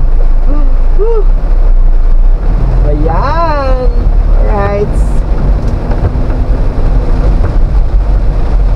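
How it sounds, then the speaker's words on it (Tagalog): Heavy downpour on a solo motorcycle ride in Laguna, a loud steady roar of rain and wind noise close on the microphone, with someone talking briefly over it. "Ang lakas ng ulan, buhos basang-basa ako ah."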